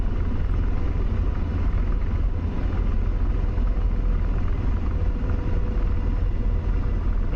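A simulated AH-64 Apache helicopter rolls along a runway in DCS, its engine and rotor producing a steady, loud, broadband rumble that holds constant throughout with no talk over it.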